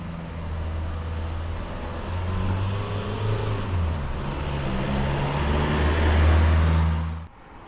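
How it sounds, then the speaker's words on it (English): A public bus approaching on an English route, a steady low engine rumble that swells gradually as it draws nearer, then cuts off abruptly near the end. "First bus of the day approaching,"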